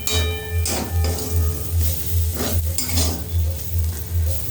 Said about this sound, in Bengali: এবার একটু নাড়াচাড়া করে নেব, আর একটু ভাজা ভাজা করে নেব